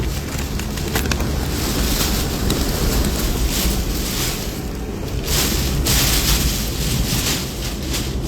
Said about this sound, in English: Whoa, 63 mile per hour wind gust there.